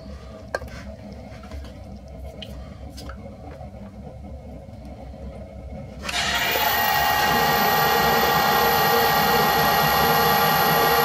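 An imperial metal lathe takes a cut in metal with the half nut engaged. A quiet workshop hum gives way to a loud, steady cutting whine and hiss that starts abruptly partway through and continues to the end.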